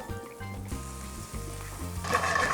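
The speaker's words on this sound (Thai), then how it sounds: "ผัดหอมใหญ่ให้พอนุ่มดีนะครับ" Onions fry in a little butter in a pan that has just cooked bacon, giving a soft, steady sizzle beneath louder background music with deep repeating notes.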